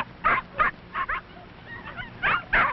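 Seven tiny puppies romping with their mother dog give out a string of short yips, whimpers and squeaky barks in quick bursts, close and fairly loud with no talking.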